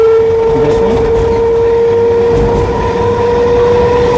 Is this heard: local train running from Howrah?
yes